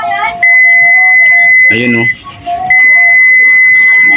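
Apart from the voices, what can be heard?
multimeter continuity test beeping on shorted diode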